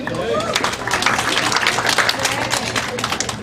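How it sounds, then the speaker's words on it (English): Audience applause at an annual benefit dinner, a dense, steady patter of many hands clapping filling the room at close range, with murmured voices mixed underneath. "It's all right if you want to applaud."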